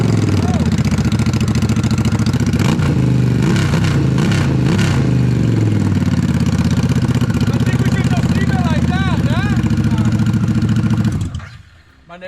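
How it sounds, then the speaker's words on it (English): A Harley-Davidson Revolution Max engine running without its muffler, loud and raw with rumbling idle and several sharp revs, close up, before cutting off near the end. "Let's do a start, right? Without the muffler."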